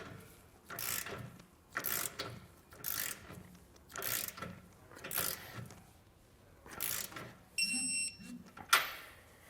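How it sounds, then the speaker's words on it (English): Ratcheting torque wrench tightening the mounting hardware for a TorkLift tie-down on a 2022 Chevrolet Silverado 3500, heard as six evenly spaced bursts of clicking about a second apart, fairly close, ending with a brief metallic clatter. "come back with a torque wrench and tighten it down to the amount specified in our instructions"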